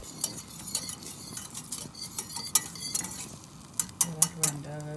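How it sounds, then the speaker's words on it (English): A whisk stirs oat milk for a vegan golden milk, giving a soft continuous swishing with bright metallic clinks and taps against the pot, all close and fairly quiet. "I am using a whisk."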